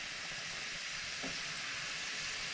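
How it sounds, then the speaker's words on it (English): Onions frying in a pan on the stove top, a steady, even sizzle with fine crackling throughout and no talk. "I want the onions to fry and not steam."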